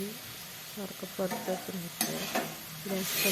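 Grated fresh coconut and flour for modak are stirred in a pan with a spatula, producing repeated soft scraping and clattering strokes over a faint sizzle, close up, no voices.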